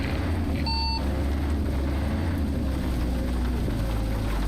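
A Caterpillar C15 truck engine in American Truck Simulator drones steadily at a low idle-like rumble, constant and moderately loud throughout, with a brief faint electronic beep early on and no speech.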